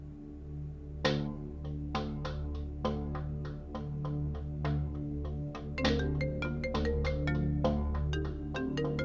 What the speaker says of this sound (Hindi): अरसलान, फोन क्यों नहीं उठा रही हो?